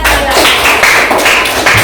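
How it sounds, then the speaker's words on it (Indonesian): Classroom applause as students clap together during a teacher's peer-observation lesson, a dense, steady patter of hand claps filling the short moment at close range. "Tepuk tangannya."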